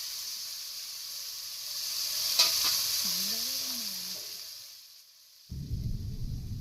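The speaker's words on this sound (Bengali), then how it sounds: "তো কাঁকড়াটা উল্টে পাল্টে ভেজে নেওয়া হবে বন্ধুরা।" A crab fries in a pan with a steady, close sizzle while it is turned and stirred, a few scraping clinks rising over the hiss before the sizzle briefly fades and then returns loudly.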